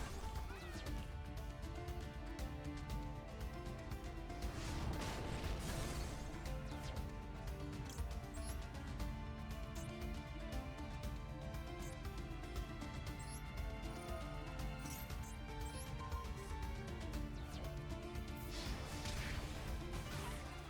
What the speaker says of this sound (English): That like cracking glass sound.